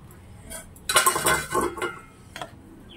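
Hot rice served onto a plate, with metal clinks and scrapes of a serving spoon against the dish, a busy burst in the middle and a single knock near the end.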